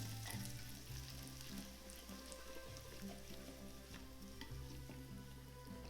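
Chili pepper mixture is whisked into hot oil for Chinese chili oil, a continuous close frying sizzle with rhythmic stirring and scraping strokes running under it, loud and steady, no voices.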